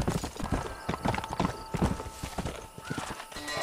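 Horse hooves clip-clop in steady, rapid galloping rhythm in the video game Red Dead Redemption, with a neigh or whinny mixed into the busy close-up game sound.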